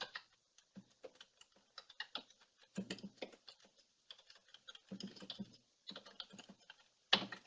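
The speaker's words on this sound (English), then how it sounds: "Okay, I'm just typing in." Quick bursts of clicking keystrokes on a computer keyboard come in uneven clusters with short pauses between them, quiet and close, with no voices.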